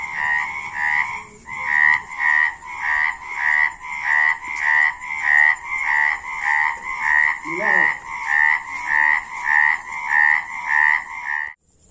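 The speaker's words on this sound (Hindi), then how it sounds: "इस मेंढक की आवाज़ तो आपको सब सुनाई दे रही है।" Frogs croak steadily in a fast, pulsing rhythm, many calls overlapping in a loud continuous chorus close by.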